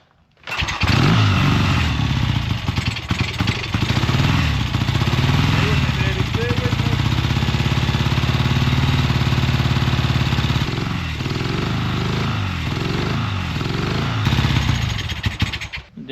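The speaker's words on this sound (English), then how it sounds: "That's the running bike right there, guys." A 1977 Triumph Bonneville 750 motorcycle engine runs steadily after a kickstart, a loud, close, continuous rumble with a slightly uneven beat that dips a little in volume partway through before cutting off.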